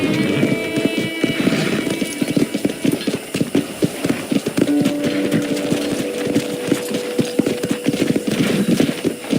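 Steady clip-clop of horse hooves on hard ground in the video game Red Dead Redemption, a quick even rhythm running throughout, close and fairly loud over a light ambient background.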